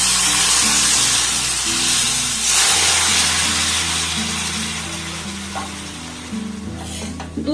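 Milk poured a little at a time into hot roasted semolina gives a steady, close sizzle and hiss that runs throughout, with soft stirring sounds and a low hum underneath.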